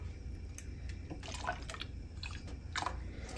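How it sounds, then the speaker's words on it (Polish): Rhubarb kisiel is stirred in a pot on the stove, giving soft wet sloshes and scraping clicks at a low level over a faint steady hiss. "Mieszam, bo to zaraz nam zgęstnieje."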